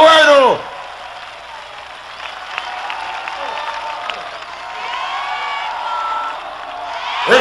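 An audience at a 1986 salsa concert at the Feria del Hogar in Peru gives steady, dense applause with cheers and whoops for several seconds. A voice is heard briefly at the start and again at the end.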